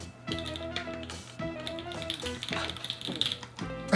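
Typing on a mechanical keyboard priced at about two million won, tried by former pro gamers: quiet clustered clacking keystrokes in uneven bursts, mixed with faint tonal background sounds.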